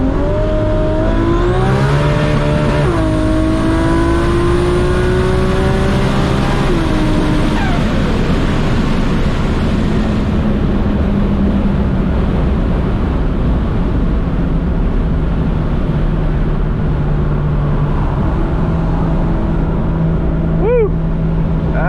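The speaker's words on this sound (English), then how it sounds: "I'm gonna show you a first gear pull." Highly tuned 1000+ horsepower MKIV Toyota Supra with a sequential three-speed gearbox pulling hard in first gear, a loud close engine note climbing steeply for several seconds, then easing off into a lower, steadier drone.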